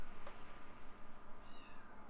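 A pet kitten crying during a Plants vs Zombies 2 play session, giving a short rising meow, then a thin wavering cry later, both fairly faint against a steady background hum.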